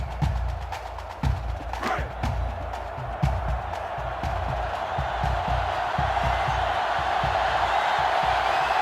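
A stadium crowd roars in the college football video game NCAA Football 2005 on GameCube, a steady swelling cheer with a louder burst near the start and a commentator talking over it.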